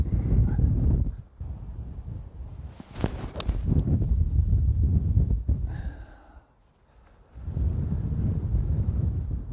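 Wind gusts buffet the microphone on a golf course, with low rumbling bursts that fade out briefly and return, plus a few faint higher noises in between.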